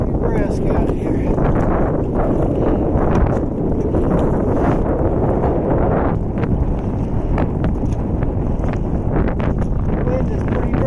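Brisk wind buffets the microphone outdoors at a snowy canoe camp, a steady loud rumble and roar throughout with occasional gust bursts and faint knocks.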